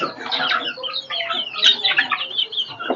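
Small flock of free-range country chickens on a small poultry farm, clucking and chirping continuously at close range, several birds overlapping with no talk.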